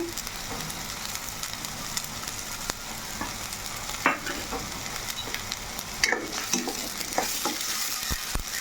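Onion paste sizzles and fries in oil in a pan for a bitter gourd curry, a steady crackling hiss with occasional scraping taps of a spatula stirring, close and moderately loud, no talking.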